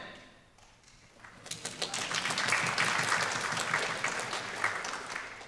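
An audience breaks into applause after a quiet start, the clapping swelling into a dense, steady patter and easing off slightly toward the end.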